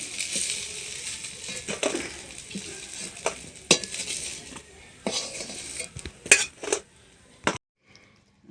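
Red-fried lentil fritters in hot oil, a bright sizzle with spatula clinks and scrapes as they are lifted from the pan, the frying cutting off abruptly near the end, no speech.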